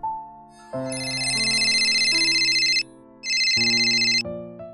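A loud electronic phone ringtone plays a bright repeating melody in two bursts, with a brief pause between them.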